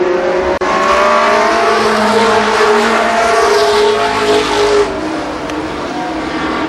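Midget race cars speeding around the Columbus Motor Speedway oval in 1993, engines roaring loud and continuous with a sustained high whine and a brief tire scrub midway, fading slightly toward the end.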